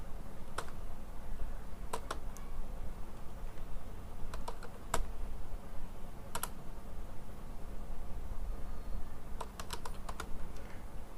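Keys clatter on a computer keyboard as a description is typed into an income tax return filing form, scattered quick clicks in short bursts over a steady low room hum.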